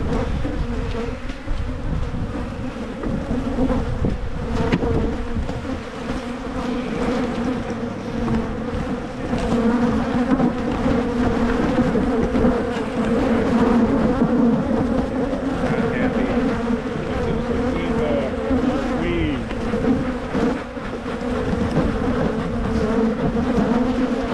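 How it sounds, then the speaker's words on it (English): Honeybees buzz loudly and continuously around a beekeeper as he makes splits of his hives, a dense steady hum close to the microphone with a few faint voices underneath. "ignore the bees that are inside the veil"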